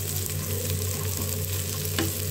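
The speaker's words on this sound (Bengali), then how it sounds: "ভেজে নেব।" A spice mixture with dried chili frying in a pan for an egg recipe, giving a close, steady crackling sizzle with faint stirring scrapes and no talking.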